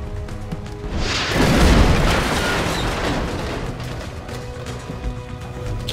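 A loud explosion in the XCOM: Enemy Within strategy game, a broad booming blast that swells after the first second and rumbles on with debris-like crackle for several seconds, with no talking.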